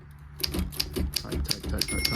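Keystrokes on a Royal 5 flatbed typewriter, a steady run of sharp, close mechanical clacks roughly every third of a second, each a bright metallic snap with a low thump of the typebar, heard alone.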